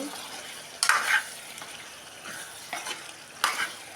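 Marinated chicken fries in hot oil in a pan with a continuous soft sizzle, broken by a few brief louder bursts of spattering and stirring scrapes.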